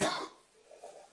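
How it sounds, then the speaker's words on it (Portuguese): A person sitting beside the host of a live talk coughs once, loudly and close, and the sound trails off into quiet breathing. "Desculpa aí a tosse, pessoal."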